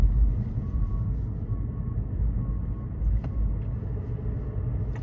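A car drives along the road with a steady low engine rumble and road noise, fairly close and continuous throughout, with no talking.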